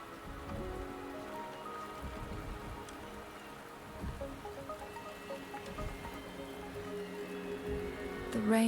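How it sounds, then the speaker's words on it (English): Steady rainfall patters on surfaces in a fantasy game world, a continuous close hiss with scattered droplet taps, brief low rumbles and a sharper burst right at the end. "The rain is subsiding"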